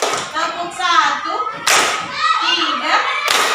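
Sharp hand claps in a classroom counting game, a couple of distinct claps cutting through as a voice and an adult talk and chant around them.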